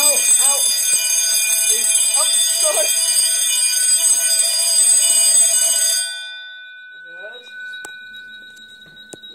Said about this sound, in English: when it goes into alarm, pull it out